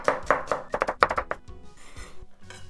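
A knife chops a smashed, peeled vegetable into pieces on a cutting board, a quick series of about a dozen close, crisp thunks in an uneven rhythm, then a short quieter pause.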